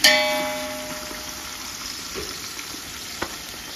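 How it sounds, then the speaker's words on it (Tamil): Sliced onions fry in oil toward golden brown, a continuous mid-level sizzle that starts with a sharp clatter and then settles into an even hiss, with occasional faint stirring clicks and no talking. "வெங்காயம் வந்து நல்லா ஒரு கோல்டன் ப்ரௌன் வரட்டும்"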